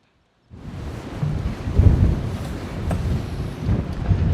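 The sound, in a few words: wind blowing in Grapevine Canyon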